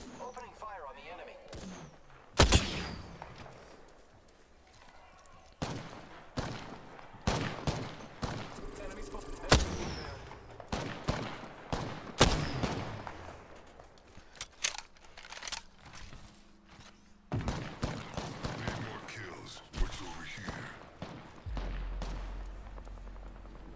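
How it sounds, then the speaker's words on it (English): Rapid bursts of gunfire fill an Apex Legends match, with repeated volleys and single shots scattered throughout, and players talk between the bursts. "Opening fire on the enemy."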